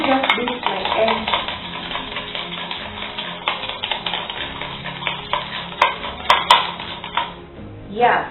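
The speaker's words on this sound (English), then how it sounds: "So let me just beat my egg." An egg is beaten in a mixing bowl for scone dough, giving a steady run of quick, close scraping and tapping strokes against the bowl, with a short pause near the end.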